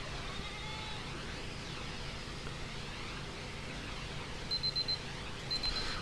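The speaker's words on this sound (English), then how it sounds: "shut up, you stupid timer" A timer alarm going off in short repeated electronic beeps near the end, over a steady background hum with no talking.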